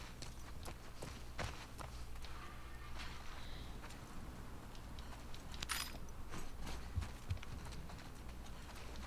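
Horse hooves clip-clop in The Last of Us Part 2, a soft, steady walking patter over low game ambience, faint and continuous for nine seconds.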